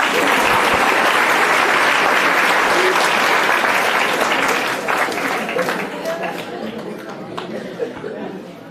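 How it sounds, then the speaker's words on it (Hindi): Students at a Class 12 farewell in a school clap together in loud, dense applause that fades gradually, with some chatter and light laughter mixed in. "एक बार मेरे लिए ताली बजाएंगे सब लोग।"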